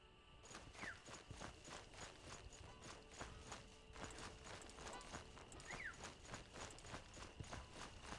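Horse hooves clip-clop steadily in a video game set on a coastal road, a regular walking rhythm of hollow knocks over soft ambient wind.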